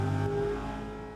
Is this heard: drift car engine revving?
yes